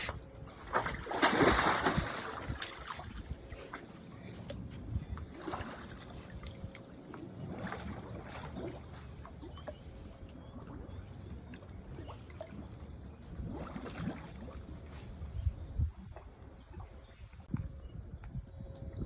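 A sailboat hull is scraped underwater, giving a steady broadband rasping and scratching with splashy bursts and water movement throughout, fairly faint and without speech.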